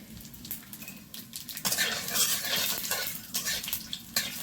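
Dry red chilli, bay leaf and whole cumin seeds sizzle in hot oil in a wok for dal with vegetables, a steady crackling fry that swells loudly partway through, with light clinks of a utensil and no talk.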